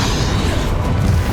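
A Confringo fire spell blasts in Hogwarts Legacy, a loud, deep booming rumble that stays steady and heavy for its whole short span with no voices.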